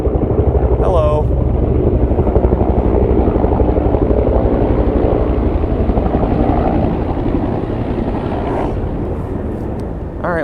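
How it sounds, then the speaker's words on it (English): A helicopter flies over an outdoor spot in Washington, a loud steady rotor drone filling the whole stretch and easing slightly toward the end, with a brief voice near the start. "I'm being interrupted by helicopters"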